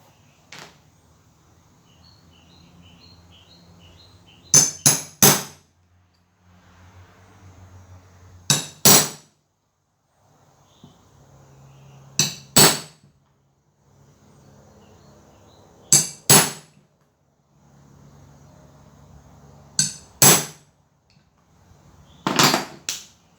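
A metal punch is struck through leather to cut shoe parts, each hit a sharp, loud crack, coming in pairs or triplets about every four seconds with quiet pauses between.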